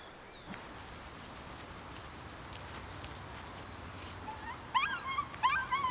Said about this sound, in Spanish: Es como un perrito ladrando.